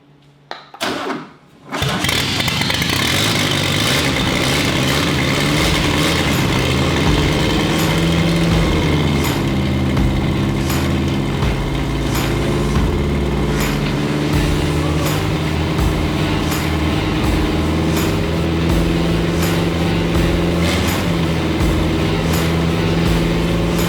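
A VW-powered budget Lemons race car engine with no exhaust fitted cranks briefly, then fires and settles into a loud, steady, raw running roar close by for the rest of the clip.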